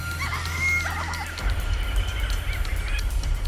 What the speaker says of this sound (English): Skuas are near. They're big, powerful birds, with a hooked bill for tearing flesh,